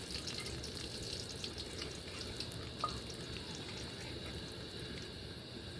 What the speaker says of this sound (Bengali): তেল গরম হয়ে গেছে দিয়ে দিচ্ছি তেজপাতা আর এই শুকনো লঙ্কা